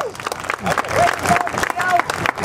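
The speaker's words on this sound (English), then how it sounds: "Give him a round of applause." Crowd applause at a dirt race track after an interview, a steady wash of clapping with scattered cheers and voices for a couple of seconds.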